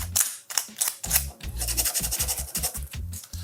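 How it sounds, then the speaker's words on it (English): A piece of coarse-grit sandpaper rubs across a rust-effect painted surface, giving a run of short, close scratchy strokes in an uneven rhythm with brief pauses between. "Let's try a piece of actual sandpaper."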